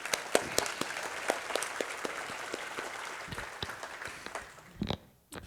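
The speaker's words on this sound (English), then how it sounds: "Let's give Karen another round of applause." Applause from an audience at an alumni leadership conference general session, moderately distant clapping with distinct sharp claps that thins out and stops near the end.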